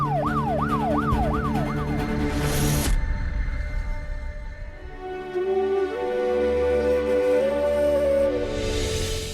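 An ambulance siren wails in rapid rising and falling sweeps, then cuts off abruptly, followed by another long, slower tone passing nearby amid traffic noise.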